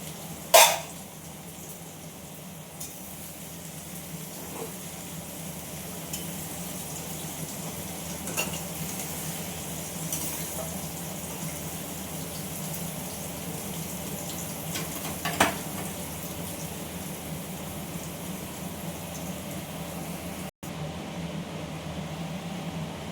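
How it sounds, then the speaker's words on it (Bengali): Two eggs fry together with vegetables in a pan, a low, continuous sizzle running for a long stretch, broken by a few brief clinks and stirring knocks. "আমি এই সবজির মধ্যে দুটো ডিম ভেঙে দিয়ে দিলাম। সবজির সঙ্গে ডিমটা ভাজা হয়ে যাবে।"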